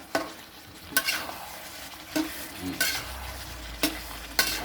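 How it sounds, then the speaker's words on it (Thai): Pork stir-fries with red curry paste and long beans in a pan, with a hissing sizzle broken by sharp spatula scrapes and clanks roughly once a second, close up and without talk. "ไปครับผัดจนกว่ามันจะแห้งนะครับ"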